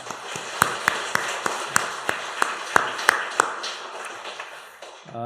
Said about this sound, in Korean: 우리 박수로 우리 하나님께 영광을 돌립시다.